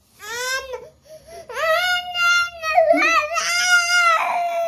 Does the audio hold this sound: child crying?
yes